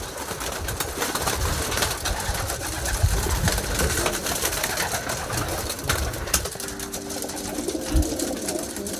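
Racing pigeons coo in a loft, soft repeated throaty calls layered over a constant busy background, fairly close and continuous.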